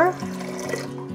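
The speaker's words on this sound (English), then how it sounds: "So we're adding 4 cups of cold water" Cold water poured into a pot in a kitchen, a steady splashing stream with a low hum underneath, heard briefly at moderate level.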